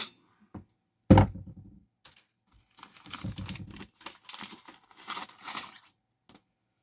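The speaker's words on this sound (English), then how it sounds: "we're going to take that one up to the next machine head up, and we're going to snip it." A guitar string is snipped at the machine head, giving a sharp single click, followed by a few scattered knocks and clattering handling sounds, close and fairly quiet.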